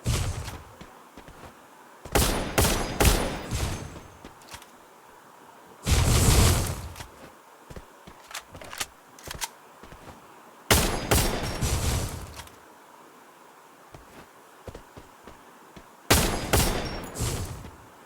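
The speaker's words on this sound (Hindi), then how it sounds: "गोली चल गई" Bursts of loud shotgun gunfire (Emerald M1887) in a video game come in separate volleys with quiet gaps between, each blast sharp and booming, repeated several times across the stretch.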